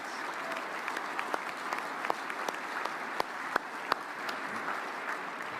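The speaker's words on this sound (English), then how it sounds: "round of applause for the entire National Scholar Athlete class" A large audience at the 2024 NFF Annual Awards Dinner in Las Vegas applauds the National Scholar Athlete class, a steady, fairly distant wash of clapping with a few sharper individual claps standing out.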